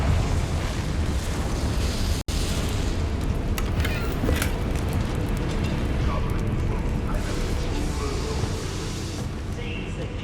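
In Hogwarts Legacy, the Confringo blasting spell sets off a dense, rumbling explosion, with a sharp crack near the start and a long roiling burst of debris and fire noise. Voices speak over it.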